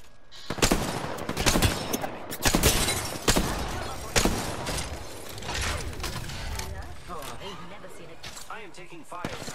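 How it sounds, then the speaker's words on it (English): Rapid bursts of video game gunfire with sharp impacts and mechanical clatter, loud and close, while players talk over the shooting. "Taking fire, friends."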